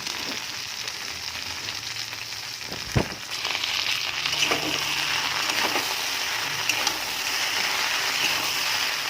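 Okra and pumpkin fry in a pan with a soft, steady sizzle, broken by a sharp clack of the stirring spoon and lighter scraping as the pieces are turned.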